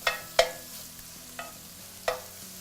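Fatty bacon crisping in a pan, a quiet background sizzle broken by a few sharp pops and spatters, close up with no talking.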